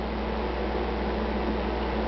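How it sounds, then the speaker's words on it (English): A microwave oven transformer wired up to draw arcs gives off a steady, loud electric buzz with a strong low hum and a broad hiss. It stays even and unbroken throughout, heard close and with no talk. "plug it in, see some arc"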